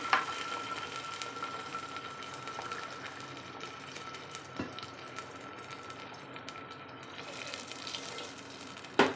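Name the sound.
water poured from tumbler into bronze pot for rice upma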